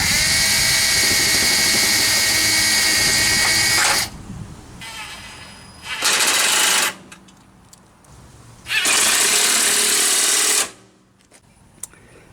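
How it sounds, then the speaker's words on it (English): Electric drill with a 1/4 inch bit boring holes through front flat fender flares on a Jeep Wrangler YJ: two loud, sustained whining bursts separated by quiet pauses, with a shorter third run in between. "drill those holes out"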